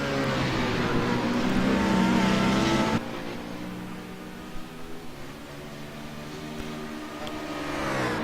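Star Mazda and BMW race cars circle a track, one engine screaming loudly through rising gears before cutting off abruptly, then more cars drone past at a distance with a swelling roar near the end.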